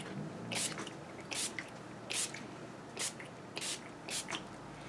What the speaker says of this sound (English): I'm going to go in again with the Urban Decay All Nighter Setting Spray and just spritz across